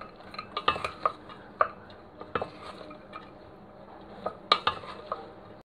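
A spoon stirring a stuffing of ghee-fried chicken liver, gizzards and raisins in a pot, scattered metallic scrapes and clinks at an irregular pace over a quiet background.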